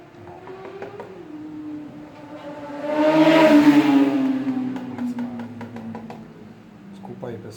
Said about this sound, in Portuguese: esse barulho de moto